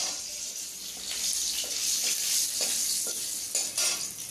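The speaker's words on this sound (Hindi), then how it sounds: "तो मसाला को मैं भूनूंगी" Masala of cumin, coriander, garlic and turmeric fries in a pan, a soft continuous sizzle broken by several scraping strokes of stirring, close and fairly quiet, with no speech.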